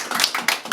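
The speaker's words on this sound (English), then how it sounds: "Oh, we all clap for Tuki." A small group claps for Tuki in a brief flurry of close, overlapping hand claps, less than a second long.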